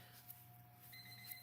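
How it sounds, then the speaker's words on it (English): A timer alarm rings faintly in a quiet room during a polymer clay craft session, thin steady tones over a low background hum, with no voices. "There's the timer."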